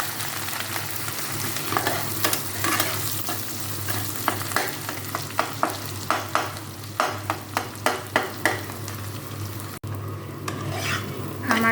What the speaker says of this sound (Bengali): এখন এই পেঁয়াজটা দিয়ে যাবে একটু কাঁচামরিচ, এগুলো একটু ভাজবো